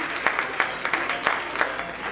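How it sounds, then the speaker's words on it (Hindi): An audience in the OP Jain Auditorium at IIT Roorkee applauds performers after a play, a moderate room-filling patter of hands with a few sharper, rhythmic claps standing out at regular intervals. "एक बार तालियों से स्वागत करेंगे"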